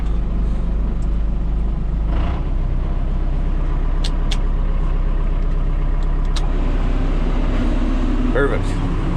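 A CAT 257D skid steer diesel engine idles loudly and steadily just after a cold start on a snowy morning, a constant close rumble with a few brief clicks and knocks, and people talk over it.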